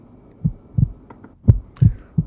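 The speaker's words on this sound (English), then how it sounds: "I could hear my heart beating." A slow, deep heartbeat thumps in steady pairs, five or six loud, close beats with near silence between them.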